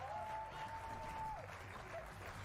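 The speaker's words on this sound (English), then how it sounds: "Applause." A studio audience applauds, steady clapping at moderate volume with a brief whistle-like tone over it.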